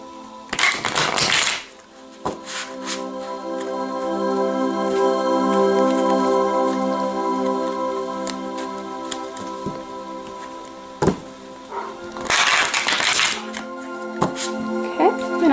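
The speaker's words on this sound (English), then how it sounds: "give it a couple more shuffles" Card shuffling in two short, dense bursts at the start and end, separated by a long stretch of steady, tonal background with occasional clicks.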